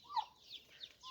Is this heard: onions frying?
no